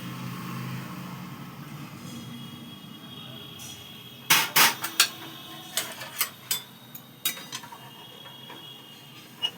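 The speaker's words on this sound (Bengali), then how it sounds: "দিয়ে অনবরত নাড়তে থাকবো যাতে এটা লেগে না যায়, দানা পেকে না যায়" Semolina being stirred into kheer in a pan, with a burst of quick scraping and clinking strokes followed by sparser, evenly spaced taps of a spoon against the pan, close and clear over a quiet background.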